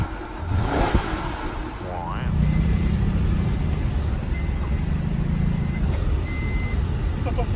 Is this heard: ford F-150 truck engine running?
yes